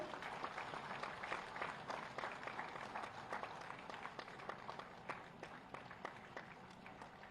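Applause from a crowd, steady dense clapping that carries on throughout at moderate, even loudness.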